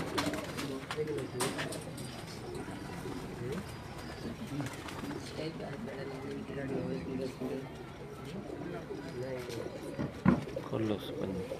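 Pigeons coo softly in low, repeated throaty calls on a rooftop, faint and somewhat distant under ongoing conversation and background noise, with a brief clatter near the end.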